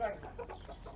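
Chickens cluck on a farm in a short burst of nearby clucks, with a person talking over them.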